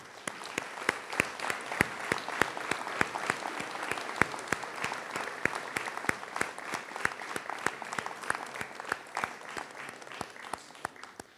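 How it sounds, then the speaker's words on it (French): Audience applauding local volunteer associations at a mayor's 2024 New Year's address, steady dense clapping with sharp individual claps throughout, moderately loud and sustained without a break. "je voudrais que nous applaudissions notre monde associatif"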